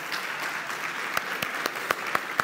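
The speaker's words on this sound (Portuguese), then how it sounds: "pode vir aqui na frente agora para a gente receber toda essa turma com uma salva de palmas" A church congregation applauds at an anniversary celebration, giving sustained even clapping with a few sharper, louder individual claps standing out near the end.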